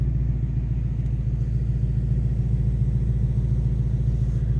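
The engine of a 2018 Ford Mustang GT fastback idles nearby, a deep, loud, steady rumble with an even lopey pulse and no talk over it.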